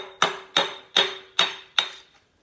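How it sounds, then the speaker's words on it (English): A soft brass hammer raps a 1936 Ford Fordor's fuel pump five times in a steady rhythm. Each strike is a sharp, close metallic tap with a ringing tone that decays quickly, and there is no talk. "let's pull the old soft brass hammer, give her a rap"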